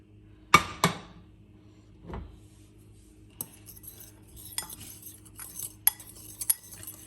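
Heated oil is mixed with seasoning into a paste, giving a few sharp metal utensil clinks against a dish followed by quieter, intermittent scraping and tapping, close and without talk.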